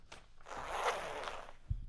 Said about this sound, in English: There it's a huge zipper on your sack.